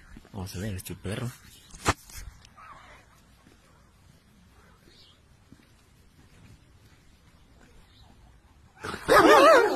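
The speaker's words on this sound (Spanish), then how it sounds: "Vamos a ver este perro" A dog barks and whimpers in short bursts near the start, then goes quiet over faint background noise before a loud burst of vocal sound at the end.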